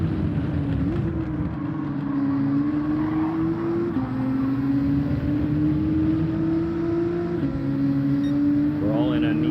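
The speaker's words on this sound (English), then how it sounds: "We're all in a Nissan GTR line, except for that Bugatti behind us" Nissan GT-R race cars in Gran Turismo 7, a steady engine drone with pitch rising through each gear and dropping at shifts, loud and continuous throughout, with a voice speaking over it.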